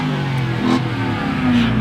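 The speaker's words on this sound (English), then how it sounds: "The Hellcat sounds so good." Dodge Hellcat V8 engine revving hard and close, a loud throaty roar with rising and falling pitch, heard alone without talk.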